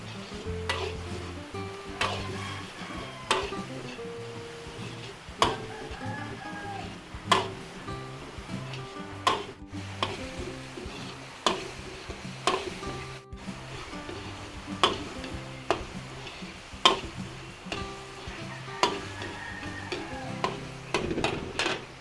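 Chicken liver and gizzard sizzle steadily while sautéing in a pan, with repeated clanks and scrapes of a spatula stirring at an irregular rhythm, close and fairly loud.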